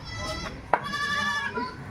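A goat bleats at a village gathering for a funeral rite in rural Bengal, with a sustained, wavering call and a short sharp cry partway through, heard over nearby people talking and background chatter.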